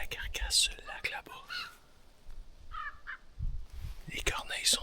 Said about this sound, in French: Les corneilles sont dessus comme c'est là.